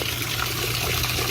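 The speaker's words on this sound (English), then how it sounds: "We've had the water flowing for a bit now" Water from a hose runs steadily over the roof of a used tiny house on wheels during a leak test, a continuous close hiss and patter of spray with no voices.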